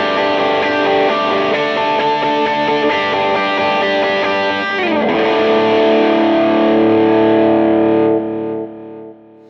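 An electric guitar driven through a Tube Screamer overdrive rings out sustained, distorted chords in a worship song, with quarter-note delay repeats and a wide hall reverb wash that fades out at the end.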